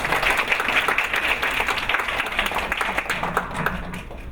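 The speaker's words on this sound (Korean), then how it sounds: "큰 박수 한 번 더 부탁드립니다" An audience claps steadily and fairly loudly after a student's presentation at a university essay contest, the applause continuing evenly throughout.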